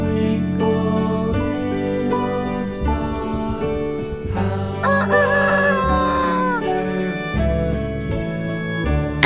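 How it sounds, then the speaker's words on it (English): A rooster crows loudly in a long rising call while a hen clucks, both set over steady background music. "H for hen."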